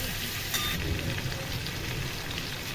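Fish fries in oil in a home kitchen, giving a soft, continuous crackling sizzle that stays fairly faint and even throughout, with a few sharper pops.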